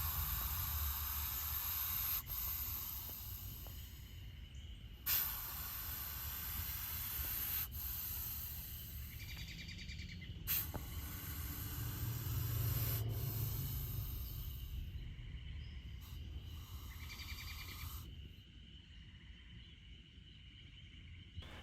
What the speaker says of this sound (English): their defensive displays, is hissing, huffing and puffing, sort of like gaboon viper and puff adder, but it's more high pitched, sort of like a tea kettle